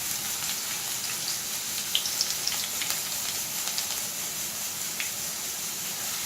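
Chopped onion crackles in 1.5 tablespoons of hot oil in a kadhai for mutton curry, making a steady soft sizzle with scattered sharp pops, close and without voices.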